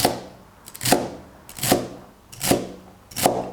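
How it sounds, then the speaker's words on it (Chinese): A knife chops tender celery into small pieces on a board, four crisp, evenly spaced strikes about a second apart, close and clear with no talking. "芹菜切成小段儿"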